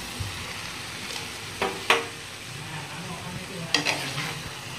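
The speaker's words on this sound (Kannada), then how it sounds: "ಇವಾಗ ನೋಡ್ರಿ ಇದಕ್ಕೆ ಕುದಿಸಿ ಇಟ್ಕೊಂಡಿರುವಂತ ಪಾಸ್ತಾನ ಇದ್ರೊಳಗೆ ಹಾಕೊಂಡ್ರಿ" Boiled macaroni pasta being stirred into sauce in a pan, a quiet simmering sizzle broken by a few sharp spoon scrapes and clinks against the pan.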